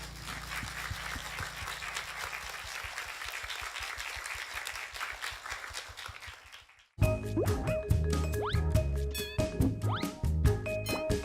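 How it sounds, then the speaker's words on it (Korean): Audience clapping after a worship song fills the first seven seconds, rhythmic and moderately loud, then cuts abruptly to a bright electronic jingle with boings and squeaks. "찬양을 받으신 하나님께 박수로 영광을 돌리겠습니다."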